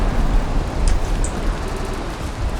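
Steady rain falls in a video game, a dense, even hiss of droplets throughout with no clear breaks and a couple of faint high blips.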